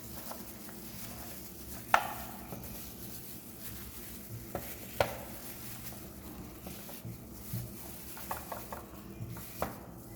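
A knife cuts potatoes into slices on a board, with a few sharp chopping knocks spaced irregularly over a low background of kitchen noise and faint sizzling, no speech.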